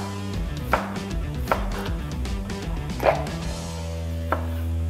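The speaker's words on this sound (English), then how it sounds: "now we're going to mince up our red onions" A knife minces red onions on a cutting board with four distinct, spaced chops over a low background hum.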